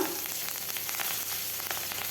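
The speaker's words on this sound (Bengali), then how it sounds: "ওই মাছ ভাজার তেলেই দিয়ে দিচ্ছি পেঁয়াজ কাঁচা লঙ্কা" Onion and green chili frying in oil left over from frying fish, a dense, steady close sizzle that stays even and loud for the whole brief moment, with no voices.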